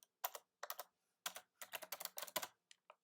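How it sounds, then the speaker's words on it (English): Someone types on a computer keyboard in irregular bursts of quick, close clicks separated by short pauses, with no talking. "Hopefully my terrible typing gives you guys time to follow along easier."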